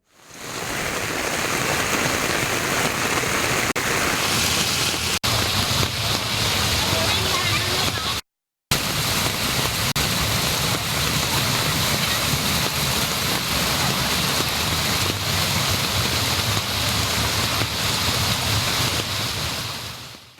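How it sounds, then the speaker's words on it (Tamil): Heavy monsoon rain and rushing floodwater surround homes and farmland in Gudalur, Nilgiris, a steady, loud roar of water and downpour throughout with a brief dropout midway. "மூன்றாவது நாளாக பெய்து வரும் கனமழையால் குடியிருப்புகள் மற்றும் விவசாய நிலங்களை வெள்ள நீர் சூழ்ந்துள்ளது"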